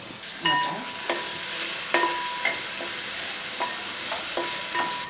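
Green chillies and curry leaves sautéing in hot oil, a steady close sizzle broken by repeated scraping stirs of a spoon against the pan, with no talking.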